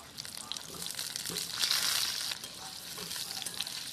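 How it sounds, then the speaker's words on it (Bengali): Potatoes frying in mustard oil in a wok, a faint sizzle with crackling bursts and soft stirring, a louder surge in the middle. "কড়াইয়ে খানিকটা সরিষার তেল দিয়ে সর্বপ্রথমে আলুগুলোকে ভেজে নিতে হবে"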